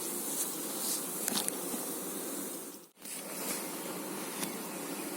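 Honeybees droning steadily around old horizontal lying hives at an apiary during a colony inspection, a continuous close buzz with brief louder passes and a short dip near the middle.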